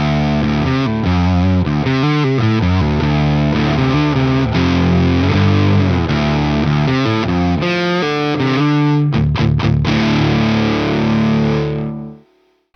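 A Pearson Hyper B electric guitar with its pickup in humbucker mode plays a loud, distorted riff of sustained chords and notes, ending in a few sharp stabs before cutting off and ringing out.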